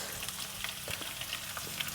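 Onion fries with ginger and garlic in a pan, a steady close sizzle with small crackling pops scattered throughout and no talking.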